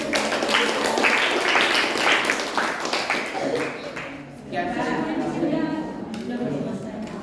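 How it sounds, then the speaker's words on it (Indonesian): A classroom of students claps for a group after their presentation, steady scattered applause that thins out, with voices talking over it toward the end. "Kita beri tepuk tangan dulu."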